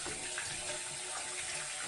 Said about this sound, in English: It's going to leak a little bit. Yeah, it's all leaking.